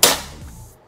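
A single sharp pneumatic crack of a Predator PCP air rifle shot, close and loud, followed by a brief fading hiss of released air.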